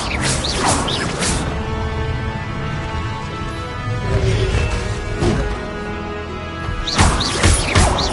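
Incendio fire spells cast in Hogwarts Legacy on PS4 Pro, several sharp whooshing blasts with crashing impacts spaced across the stretch, set against steady game background sound and music.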